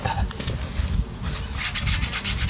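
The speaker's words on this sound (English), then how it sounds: "just rub it down here." Abrasive rubbing down a Volvo S60 wheel hub before a spacer goes on, a steady close scraping with rhythmic back-and-forth strokes running throughout.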